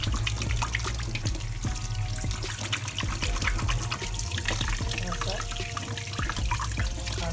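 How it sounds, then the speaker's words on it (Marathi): Tap water runs over salted surmai (seer fish) in a sink as it is washed, a steady splashing stream with irregular splatters and drips, close by. "आता तिला आपण स्वच्छ धुवून घेऊया।"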